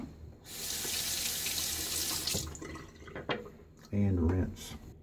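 A tap runs into a sink in a steady close rush while the razor is rinsed during a wet shave, with drips, a few clinks and a brief voice near the end.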